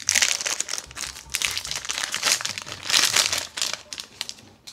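A Lorcana booster pack's foil wrapper crinkles and crackles as it is torn open, close and loud, in repeated rustling bursts that fade out at the end.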